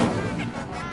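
Incendio fire spell cast in Hogwarts Legacy, a loud one-second whooshing blast of flame with a heavy, booming body that fades slightly without stopping.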